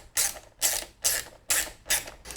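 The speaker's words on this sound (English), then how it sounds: "you just have to tighten the clamps now" A ratchet tightens coolant hose clamps on a KTM 1290 Super Adventure engine during installation: five quick bursts of clicking, close and fairly loud, with short pauses between strokes.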